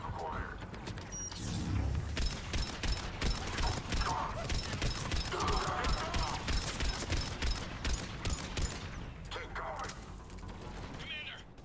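Heavy mortar fire and battle noise in Mass Effect 3: repeated booming impacts and crackling bursts roll on steadily at moderate volume, with voices talking over the combat.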